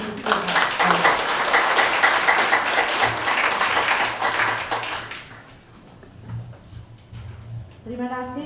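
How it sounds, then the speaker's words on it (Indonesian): A church congregation claps together for about five seconds, loud and dense, then the applause fades out and a voice begins speaking over quiet room sound. "mari beri tepuk tangan untuk Tuhan"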